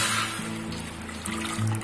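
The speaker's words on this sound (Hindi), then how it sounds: "2 ग्लास हमने पानी डाले हैं" Water poured from a glass into a cooking pot to make sugar syrup for bread gulab jamun, a close, continuous splashing trickle with shifting pitch as the pot fills.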